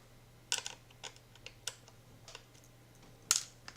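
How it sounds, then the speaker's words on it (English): Screws are worked out of a hard drive's metal enclosure, making sparse, sharp little clicks and taps at irregular intervals, faint and close, with quiet gaps between them. "first thing we're going to need to do is to take the screws out of the enclosure"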